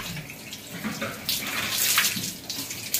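Water splashes and pours steadily over a Labrador dog during a bath, a close, hissing rush that swells and eases in uneven bursts.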